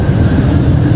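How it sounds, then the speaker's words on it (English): The Haramain high-speed train runs at about 300 km/h, giving a loud, steady rumbling roar heard from inside, continuous over the short stretch with no talk. "The Haramain train has a service speed of about 300 kilometers per hour"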